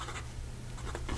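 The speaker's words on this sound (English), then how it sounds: "we go with the writing sample for the Pilot Stargazer" A Pilot Stargazer/Stella 90S fountain pen with a medium 14K gold nib writes with KWZ ink, giving soft, close scratching strokes that come in short bursts.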